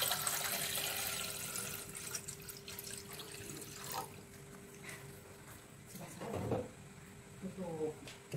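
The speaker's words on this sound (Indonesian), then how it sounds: "Kita masukkan air ini 1 liter." One liter of water poured into a cooking pot on a lit stove while making sala lauak, the West Sumatran fried snack. The stream splashes steadily at first, then gives way to a few clinks and drips, with some talk in the background.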